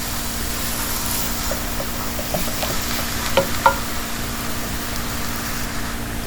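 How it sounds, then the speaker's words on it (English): Spiced filling for Kerala-style egg puffs sizzles in a pan while being sautéed, a steady close frying hiss with a few light stirring taps and no voices. "Keep sauteing it nicely."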